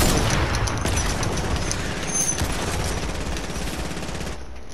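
Sustained bursts of gunfire in Fortnite crackle and pound continuously, loud and dense like automatic fire, tapering slightly toward the end with no voices heard.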